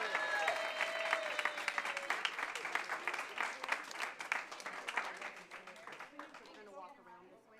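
Audience applause for student award winners at a school district board meeting, dense clapping from a crowd with cheering and voices mixed in, fading toward the end.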